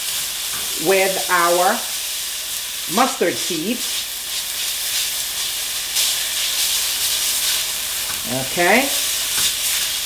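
Ginger, garlic and coconut mixture with mustard seeds being stirred in a hot pan, a steady close sizzle and hiss with scraping under brief bits of talk.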